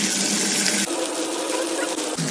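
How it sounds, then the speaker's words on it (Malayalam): Shaped rice dough drops into hot oil and sizzles loudly, a dense, steady frying hiss that shifts slightly as the pieces settle, close and continuous. "ഇനി നമുക്ക് ചൂടായ ഓയിലോട്ടങ്ങിടാം."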